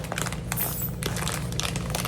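A plastic zip-top bag holding meat for burnt ends with hot all-purpose seasoning is squeezed to push the air out, giving close, continuous crinkling and crackling of plastic over about two seconds with no talk.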